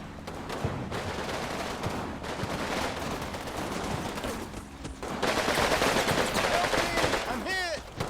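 Machine gun fire in a video game: bursts of automatic gunfire and scattered shots continue throughout and grow denser and louder toward the end, with brief voice fragments mixed in.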